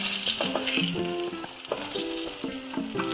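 Brinjal fritters made with flour, egg and gram flour batter fry steadily in hot oil in a pan, a dense continuous sizzle with stirring and scraping knocks repeating every half second or so, close and fairly loud.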